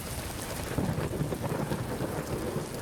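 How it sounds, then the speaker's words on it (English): Steady rain falls with low rolling thunder rumbling beneath it, a dense continuous wash of sound with no voices. "The rain falls on everyone equally. The thunder strikes wherever it pleases."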